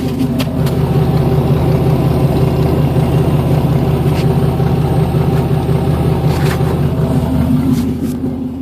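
A Ford V6 with freshly done exhaust work idles close by, a steady, throaty rumble with a low burbling pulse that holds evenly throughout.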